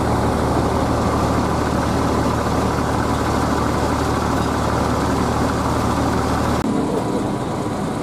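Heavy Mercedes 2542 Tronton bus engines idle at a bus terminal, a dense, steady low-pitched drone that stays loud and constant, with a slight change in tone near the end and no voices.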